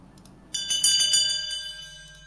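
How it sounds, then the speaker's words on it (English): A bell strikes once with a bright ringing tone, then a second strike follows shortly after, each ring lingering and slowly decaying into quiet. "You hear 2 bells ring."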